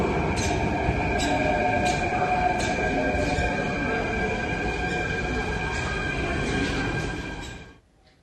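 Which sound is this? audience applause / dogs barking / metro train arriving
metro train arriving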